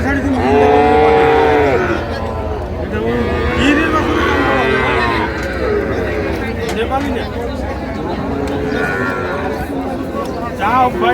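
Cattle moo loudly at a livestock market selling small bulls and heifer calves, a long low call opening the stretch and more moos following amid a babble of bargaining voices.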